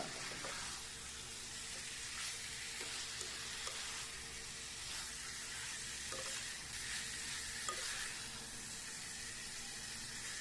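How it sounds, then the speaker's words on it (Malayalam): Fish pickle pieces being mixed in a pan, with a steady sizzle and soft scraping stirs repeating every couple of seconds under a constant hiss. "എല്ലാം കൂടി നല്ല രീതിയിൽ മിക്സ് ചെയ്യുക"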